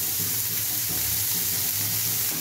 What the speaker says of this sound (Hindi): अब इसको प्याज को थोड़ा गलने देंगे और थोड़ा सा हल्का ब्राउन हो जाएगा